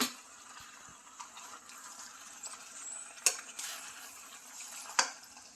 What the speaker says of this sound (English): To this I'll be adding all the pasta here